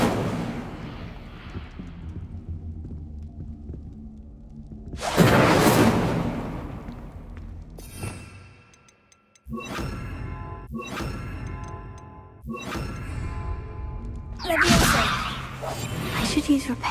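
An Incendio fire spell cast in Hogwarts Legacy bursts out in loud whooshing blasts, several sharp flaring strikes in quick succession against quieter game ambience.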